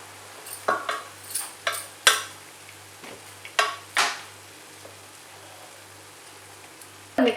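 Cooked rice gets stirred into a raw mango mixture in a pan, giving a series of soft spoon scrapes and knocks against the pan at uneven intervals over a quiet background.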